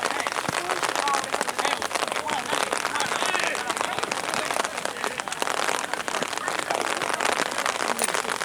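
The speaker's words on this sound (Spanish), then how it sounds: "Baja la lluvia." Rain falling steadily at a youth football match, a dense, continuous hiss of drops on surfaces at even loudness throughout, with people's voices faintly mixed in.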